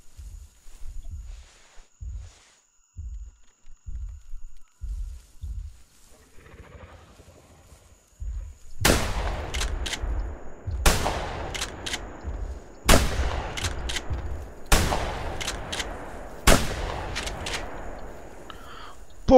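In the video game theHunter: Primal, a hunter fires on a T-Rex: five loud, sharp gunshots ring out a couple of seconds apart, after soft, low, rhythmic thuds that come first.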